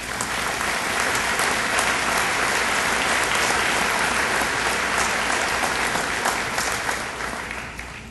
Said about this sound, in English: Yes, that does probably get an applause.